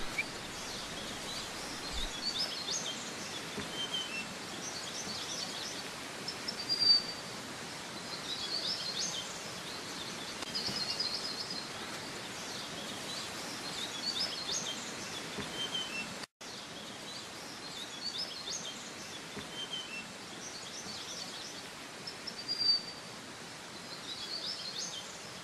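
Forest ambience in Lore Lindu National Park, Sulawesi, with scattered bird calls and chirps over a soft, steady background hiss, faint and distant, with occasional rustling.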